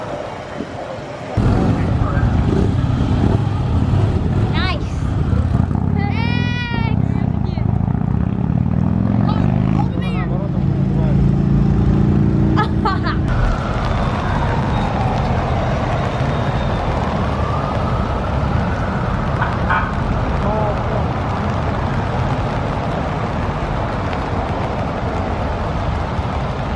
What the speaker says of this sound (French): c'était une des premières voitures du cortège